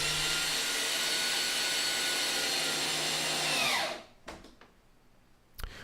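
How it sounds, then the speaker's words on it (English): A power drill driving screws into a wooden ITG2 dance pad replica whines loudly and steadily for several seconds, then winds down and stops, followed by a few sharp clicks and knocks. "So switch bits, put in screws."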